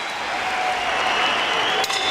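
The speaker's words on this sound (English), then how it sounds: "they both deserve a round of applause" A boxing crowd applauds after a twelve-round fight, a dense wash of clapping heard from the arena floor, steady and fairly loud throughout the short stretch.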